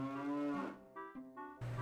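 Two cows moo among hay and farm gear in the Zelda: Ocarina of Time farm, with a long, loud, low bellow followed by two shorter, quieter moos and a final low moo at the end.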